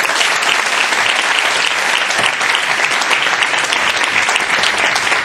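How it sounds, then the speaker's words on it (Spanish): An audience at a talk on advertising creativity applauds as the speaker is welcomed, a dense, steady wall of clapping held loud and even for several seconds. "Un gran aplauso para Luis."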